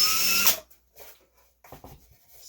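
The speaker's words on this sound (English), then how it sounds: "First I'll ream it a little bit." A power drill reams a hole through wood on an outrigger wood kit: one short, loud, high whirring burst at the start, then stopping, followed by faint handling clicks and taps.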